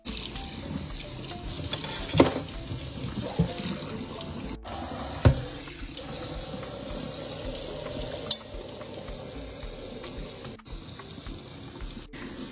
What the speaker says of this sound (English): So I'm just going to grab our cutting board and knife, give her a little rinsey poo.